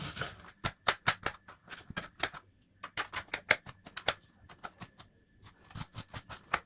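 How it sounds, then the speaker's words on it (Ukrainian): Rapid knife chops dicing an onion tap against a cutting board in quick uneven bursts, separated by short pauses, close and fairly quiet, with no voices. "Цибулю нарізаємо дрібним кубиком."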